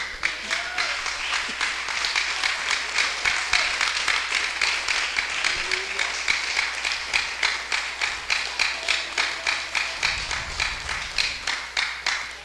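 Church congregation clapping in a steady, rhythmic beat together, about two claps per second, loud and even throughout, with a brief low rumble near the end.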